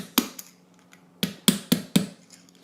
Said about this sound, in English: slightly hammer it into place in different places